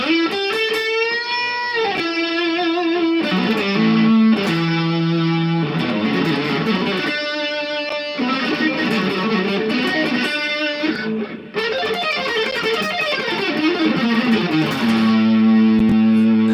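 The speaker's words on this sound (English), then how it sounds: "It's a distortion pedal." Electric guitar played through two combined distortion pedals, gritty chords and bending notes ringing out loudly, with brief pauses between phrases and no voices.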